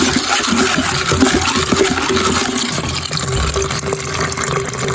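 Corn bait being stirred in a bucket of hot water for fishing groundbait, giving a steady close sloshing and swirling of liquid with bubbling churn throughout.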